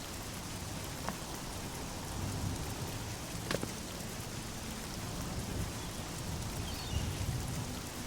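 Steady rain falls in Oblivion as a constant broad hiss of drops on surfaces, with a few faint sharp ticks and a low rumble beneath.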